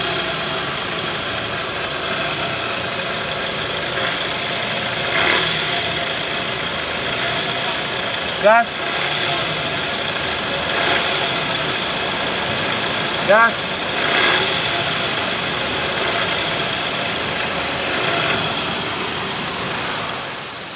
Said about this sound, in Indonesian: Jadi bunyinya ada sedikit ker gitu di area panci oli mesin karena kilometer juga udah tinggi.